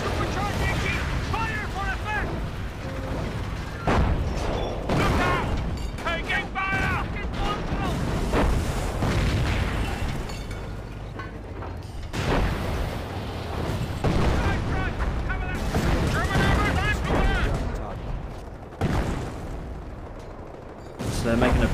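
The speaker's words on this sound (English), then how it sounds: "I think that's a friendly US plane doing a strafing run" A US plane's strafing run in the World War II strategy game Company of Heroes, fighting around Lyon, sends out bursts of gunfire and booming impacts amid dense battle noise, loud and sustained throughout.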